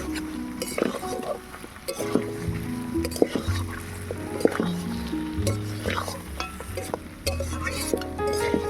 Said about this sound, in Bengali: এবারে মাছের মাথাটাকে আলু আর কচুর সঙ্গে একটু কুচিয়ে নেবো